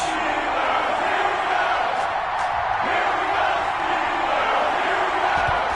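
A stadium crowd at Heinz Field roars steadily ahead of a Cincinnati Bengals vs Pittsburgh Steelers football game, a dense, unbroken wash of cheering and shouting with a few faint knocks.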